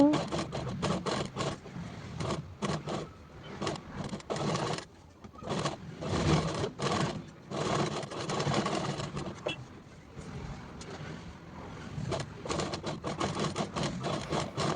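A sewing machine stitches the shoulder seams and joins the sleeves of a princess-cut blouse, a fairly quiet run of rapid mechanical chattering in short bursts separated by brief pauses.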